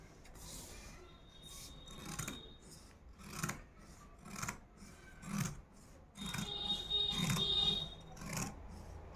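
Scissors cutting cloth for a gold dress: a series of separate rasping snips, some spaced apart and then a longer run of quicker cuts near the end, close and fairly quiet.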